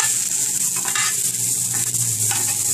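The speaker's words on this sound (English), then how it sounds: "I'm just going to caramelize the onions" Onions caramelize in a frying pan with a constant bright sizzle, close and fairly loud, broken by occasional soft stirring scrapes.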